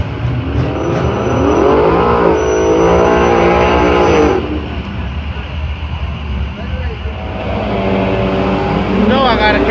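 A car at a race track revs and accelerates loudly and close, engine note rising and falling over about four seconds before easing, then building again near the end, with people shouting and talking over it throughout.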